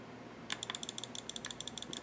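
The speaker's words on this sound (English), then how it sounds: "let's hear those switches that I replaced" Replaced switches on a retro trackball mouse click rapidly in quick, irregular bursts, crisp and close but fairly quiet, with no voices.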